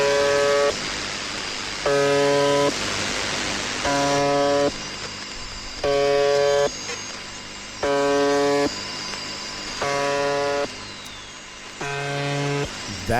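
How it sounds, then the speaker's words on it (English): A harsh, droning buzz from a shortwave radio buzzer station repeats in regular bursts about every two seconds, each lasting under a second, with steady static hiss between them. "Let's listen to the buzzer real fast."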